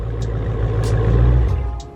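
Deep exhaust growl from a 2020 widebody Dodge Challenger ScatPack 392, a close steady rumble that swells slightly in the middle and eases off near the end.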